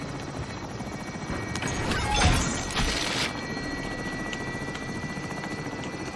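A helicopter in Call of Duty Warzone thrums steadily in the background, swelling to a louder rush with a brief crash-like burst midway before settling back to a constant rotor drone.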